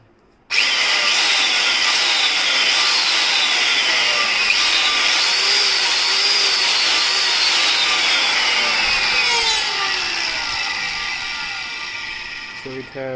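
An Ibell MC10-30 multi-purpose marble cutter rated at 13,000 rpm switches on with a sharp start and runs at a loud, steady high-pitched whine, slowly fading near the end.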